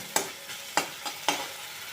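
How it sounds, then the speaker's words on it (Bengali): Spice paste stir-fried with already fried potatoes for a vegetarian pea-greens ghonto, giving a steady close sizzle broken by three sharp scraping stirs of a spatula against the pan. "এবার ভালো করে আলুর সাথে এই মশলাটাকে আমি কষিয়ে নেব।"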